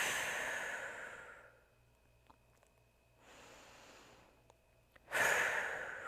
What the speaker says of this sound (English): Take a big breath in and out.